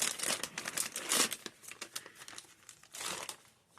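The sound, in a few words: opening a package, plastic packaging crinkling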